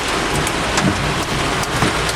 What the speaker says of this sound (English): Oh, there is some very heavy rain